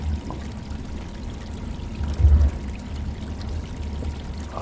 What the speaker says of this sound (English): I'm not sure if this sound is just water running.